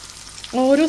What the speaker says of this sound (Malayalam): നമുക്കതിലേക്ക് എണ്ണ ഒഴിച്ചു കൊടുത്തിട്ട് നമുക്ക് ചിക്കൻ പീസസ് വറുത്തെടുക്കാം